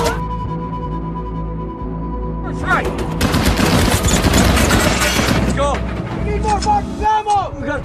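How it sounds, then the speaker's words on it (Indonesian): Gunfire and explosions from a WWII tank battle in the film Fury, a dense burst of shots and blasts building over a rumbling score, with voices and music mixed in throughout. "Setelah aksi tembak-menembak terjadi sampai malam hari"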